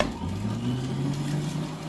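A DSP Power Juicer runs while juicing carrots, giving a steady close motor hum with a grinding, hissing texture. It holds an even level throughout, with no voices.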